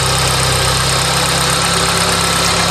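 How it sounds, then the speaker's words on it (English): Car engine running rich just after its first startup, a loud, steady close-up idle with an even low-pitched drone and a faint rhythmic knock underneath, with no voices. "Actually, there's no reason for you to be tortured with my full engine noise."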